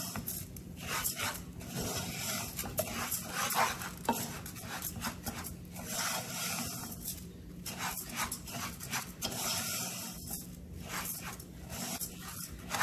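Soft, continuous sizzling of rice frying in a pan before water is added, with repeated scraping and stirring sounds of a utensil against the pan, close and fairly quiet.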